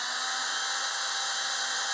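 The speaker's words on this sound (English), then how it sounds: "I'm going to drill it through this thick part" A power drill runs steadily against a thick metal part of a 1948 Ford wiper transmission, a continuous high whining grind at even loudness with no pauses.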